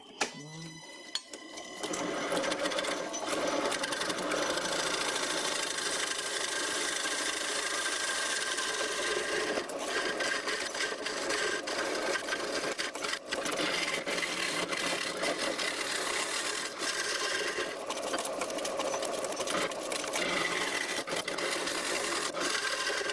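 A home-made bowl gouge cuts hard end grain on a wood lathe, a continuous rough, buzzing scrape with chattering vibration that holds steady for a long stretch after a brief start.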